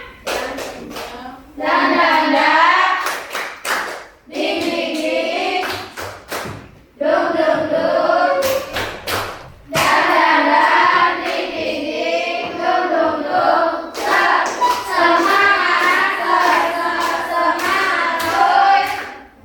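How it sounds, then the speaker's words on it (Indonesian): A classroom of students performs a rhythmic encouragement clap, bursts of patterned hand claps mixed with loud chanted voices in unison, repeating in several sections with short pauses between. "Tepuk semangat."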